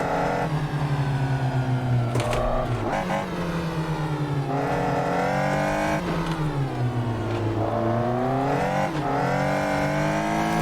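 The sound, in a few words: Caterham car engine driving in video game Assetto Corsa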